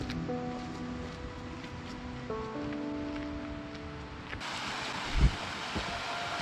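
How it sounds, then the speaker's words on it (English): Water running in a stream below a waterfall on a cold, windy Northumbrian crag: a steady broadband rush with faint tonal hum, growing brighter partway through, with one brief thump near the end. "I don't know if you can hear the water running in the background."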